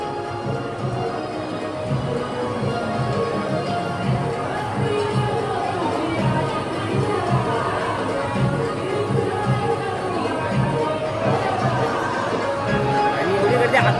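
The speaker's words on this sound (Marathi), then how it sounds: "दुकानं पण बघा आणि गर्दी पण बघा, खूप गर्दी आहे इकडे पण." Dense crowd hubbub at the Kalkai Devi temple on a busy Sunday, a steady wash of many overlapping voices and movement throughout, close and fairly loud.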